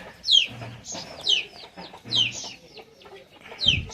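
Rasangi hens, plump double-bodied birds, cluck close by in a steady series of four short, bright squawking calls about a second apart, with faint rustling between them.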